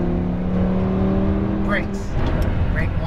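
A Lamborghini Huracan LP610-4 engine pulls hard on a Los Angeles race track, revving up and shifting gears, loud and steady under an instructor's voice giving directions.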